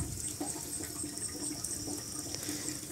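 Cashew fruits are rinsed under running tap water, a steady close splash and trickle with small knocks of fruit against the container, no talk.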